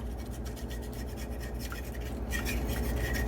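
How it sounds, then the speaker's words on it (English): A utensil scrapes browned bits off the bottom of a pan of onions, steady rasping and rubbing strokes repeating close up, alone without talk and slightly louder toward the end. "Make sure you get the brown bits off of the bottom of the pan"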